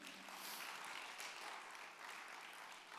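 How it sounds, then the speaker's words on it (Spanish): A church congregation applauds during a pastor's sermon. The clapping is soft and distant, a continuous even patter that lasts the whole span with no voice on top. "Dele un aplauso al Señor."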